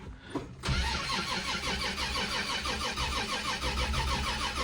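A Plymouth Belvedere's starter cranks on a snowy cold start, its steady rhythmic churning running loud and continuous after a short pause.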